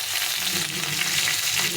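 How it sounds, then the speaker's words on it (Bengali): Potatoes and eggplant frying together in a pan with a little salt and turmeric, a close, steady, loud sizzle that holds evenly for the whole moment. "এটাকে ভালো করে একসঙ্গে ভেজে নেবো সুন্দরভাবে ভাজা হয়ে যাবে"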